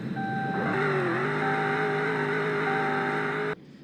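Steady idle from a 2013 Dodge Charger RT V8 just after startup, a loud, close engine drone with a slight dip in pitch early on, holding constant until it cuts off abruptly near the end.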